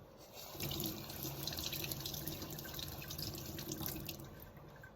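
Tap water runs steadily into a sink while an onion is rinsed under the stream, a close, continuous splashing hiss with no talking.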